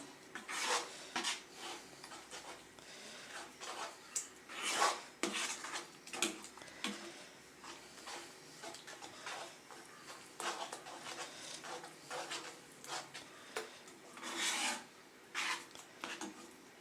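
A spoon stirs apple into semolina kesari in a pan, giving repeated gritty scraping strokes in an irregular rhythm, close and fairly clear, with no talking.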